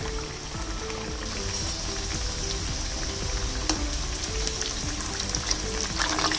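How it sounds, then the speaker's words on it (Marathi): Masala puris made from wheat flour frying in medium-hot oil, a continuous bubbling sizzle with fine crackles and a few sharper pops, close and steady without any talk. "आपण पुऱ्या सोडूया हे बघा हे अशा प्रकारे त्या फ्राय होतील"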